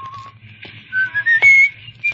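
A man whistles a short rising melody while walking down the street, clear and close over a faint low hum.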